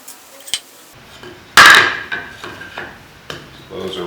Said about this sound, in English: I use a center punch to punch my holes.